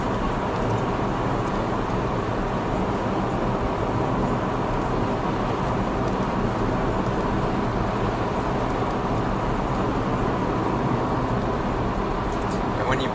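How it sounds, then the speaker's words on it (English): Steady wind and road roar inside an electric car cruising at about 60 mph, a constant broadband rush that stays level throughout with no engine note. "And there's no real noise apart from the wind."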